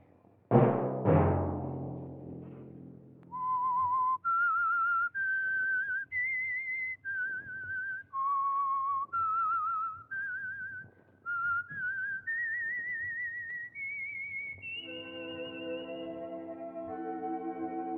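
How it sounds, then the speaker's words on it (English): Someone whistles a slow melody alone, a radio mystery show's signature tune: clear, sustained notes stepping up and down, ending on a long, rising held tone. "Let that whistle be your signal"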